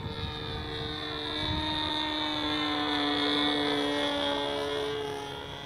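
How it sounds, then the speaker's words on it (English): A 1976-design Sig Smith Miniplane model airplane flying at Hemet Model Masters in California, its small engine giving a steady high-pitched whine that swells slightly and fades, with no talk. "the old Sig Smith mini plane, nostalgic model from 1976"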